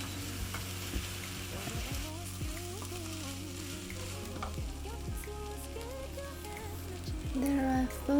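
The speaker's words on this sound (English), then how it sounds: "fry onions first until translucent and brown on the outside, and then you can add other vegetables and keep frying." Onions sizzle steadily in hot oil, a constant crackling fry with occasional stirring, while a person talks over it.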